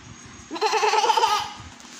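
A person imitates a goat with a single wavering, bleating "meh-eh-eh" lasting about a second against a quiet background.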